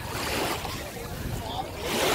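Sea water washes along the shore at Lung Mei Beach in Tai Po, a brief, close wash of surf mixed with wind noise and a faint voice.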